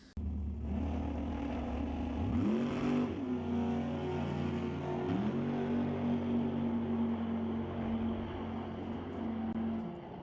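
A Camaro drag race car at Mission Raceway Park roars under hard acceleration, its engine pitch climbing, dropping at a gear change, then climbing again. The sound is steady and fairly distant, with no voices.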